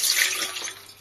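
Water poured into a T-fal Clipso P45007 stainless steel pressure cooker, a steady close splashing stream that fills the second and eases slightly toward the end.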